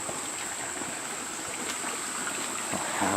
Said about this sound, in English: Oh, this is a pretty little creek.